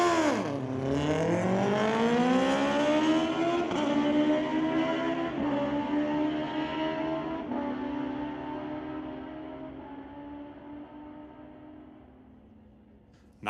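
Suzuki and Kawasaki motorbikes launch off the line at a drag strip, engines screaming through a steep rising rev sweep with quick gear shifts, then fading steadily into the distance.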